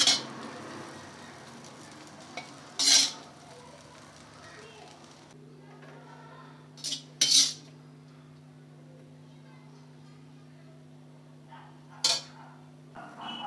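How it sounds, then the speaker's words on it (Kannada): Metal clinks of a utensil against a frying pan as egg is added and stirred for egg rice, three sharp scraping taps spread apart over a low steady hum. "ಇದಾಗುತ್ತೆ ಅಂತ ಮೊಟ್ಟೆ ಹಾಕೋತಾ ಇದ್ದೀನಿ"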